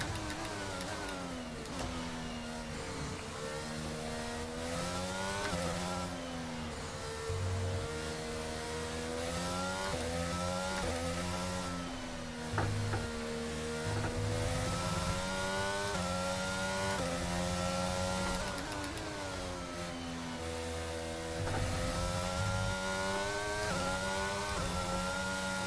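Simulated Formula 1 car engine from the F1 22 racing game at the wet Australian Grand Prix, droning steadily with rising and falling pitch through gear changes and throttle shifts, loud and continuous throughout with no talk.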